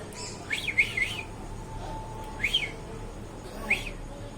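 A pet myna bird gives three short whistled chirps spaced a second or more apart. The calls are fairly close and sit over a quiet room background.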